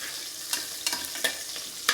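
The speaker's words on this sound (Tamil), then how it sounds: "இப்போது இந்த வெங்காயத்தையும், இந்த அரை வெங்காயம் பச்சை மிளகாயும் போட்டுருவோம். போட்டு நல்லா வதக்குவோம்." Onions and green chilies frying on a high flame, with a dense steady sizzle and a few soft stirring knocks throughout.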